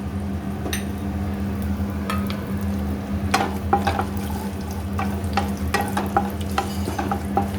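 Tempering spices, including curry leaves, sizzle in hot white oil for sago pulao, a quiet frying hiss under a low steady hum, punctuated by scattered sharp clinks and scrapes of stirring.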